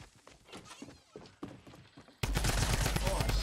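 In Fortnite, scattered irregular gunshots and thuds give way to a sudden loud, dense burst of firing that fills the last second, with people talking during the clip.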